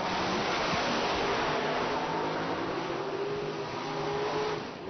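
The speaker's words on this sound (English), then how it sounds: "You heard the car. It just slogged out and just, it didn't come to a complete stop, but you knew it just went nowhere." A Chevrolet-powered drag race car runs at an IHRA Pro Am drag race in Cordova, giving a steady, distant, rushing engine roar that thins out slightly at the end. No voices are heard.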